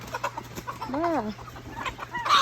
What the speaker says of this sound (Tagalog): Tingnan natin ang ating mga alagang chicken.